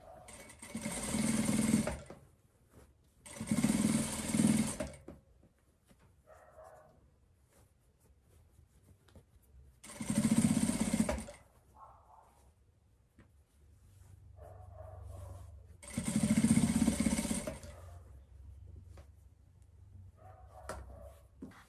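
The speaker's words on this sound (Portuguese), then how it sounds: "a gente segue aqui passando a costura em toda a volta do capuz" A sewing machine stitches around the hood of a hooded blanket in four loud, steady bursts of rapid whirring, separated by quieter pauses with faint handling sounds and a small dog whimpering and yipping nearby.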